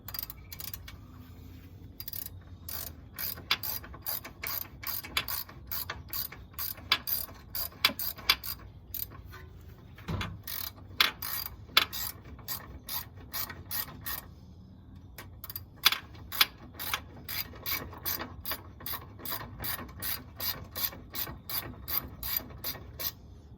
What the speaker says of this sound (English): my ratchet is not wanting to ratchet